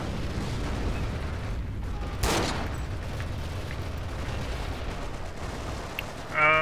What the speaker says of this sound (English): Oh, good mortar hit there.